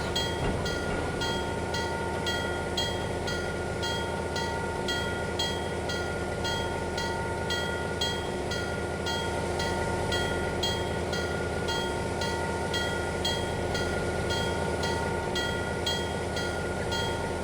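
A model train on a Pennsylvania & Berwind layout reverses through a switching yard, a steady mechanical whir with a rapid rhythmic clicking that runs continuously throughout, with no voices.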